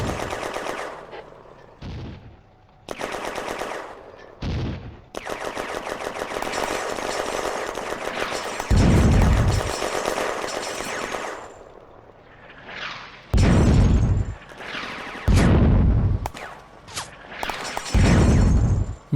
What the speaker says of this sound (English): a machine gun opens up from one of the buildings in Easy Sector